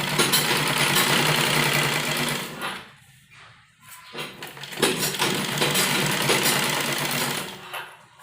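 Sewing machine running loose basting stitches through fabric folded over buckram, a fast mechanical whirring with a pause in the middle before it resumes, close and loud.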